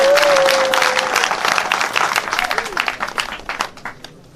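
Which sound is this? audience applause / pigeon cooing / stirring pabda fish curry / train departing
audience applause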